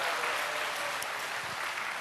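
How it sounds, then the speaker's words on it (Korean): Steady, full applause from a large church crowd at a summer retreat lecture, a dense wash of clapping that holds evenly for two seconds without voices breaking through. "박수를 치세요."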